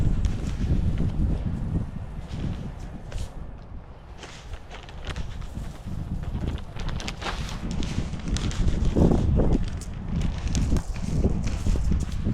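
Gusty wind buffets the microphone in rumbling bursts in a garden, with rustling and faint footsteps throughout.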